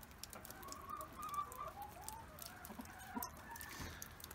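Hens clucking and murmuring as they eat feed in a coop during cold winter days, a continuous soft chorus of overlapping clucks with occasional louder calls, no talk.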